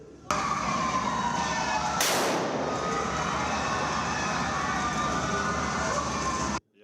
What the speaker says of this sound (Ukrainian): Інструктори імітують звуки вибухів